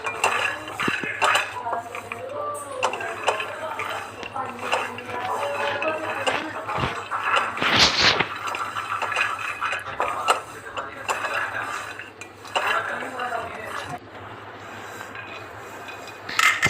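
Peanuts being dry-roasted and stirred in a pan over a low flame for peanut chikki, with steady clinks and scrapes of a utensil against the pan and a sharp rattle near the middle, under continuous talk.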